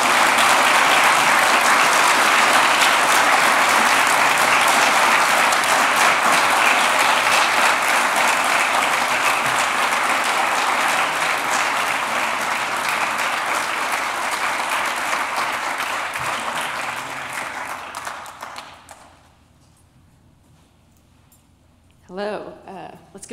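A lecture audience applauds after a talk on reproductive rights, loud dense clapping that holds steady for many seconds, then thins and fades to near silence, ending with a short burst of sound.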